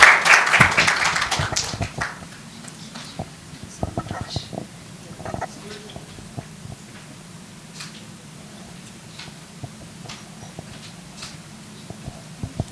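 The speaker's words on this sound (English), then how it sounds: "Come on, one more big round of applause" An audience at a women leaders and EHS professionals awards conference claps for an award winner in a dense burst of applause that fades quickly into quiet room noise.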